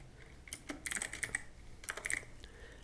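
Someone typing on a computer keyboard on a Windows PC, with two short bursts of crisp, close key clicks separated by a pause, and no voices.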